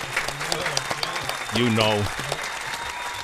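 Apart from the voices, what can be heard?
audience applause for Baron Davis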